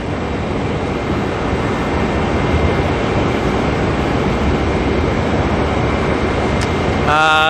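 A small Dash 8 turboprop arriving from Whangarei at Auckland Airport gives a steady broadband whooshing drone of propellers and engines, continuous and fairly loud throughout, with a brief higher whine near the end.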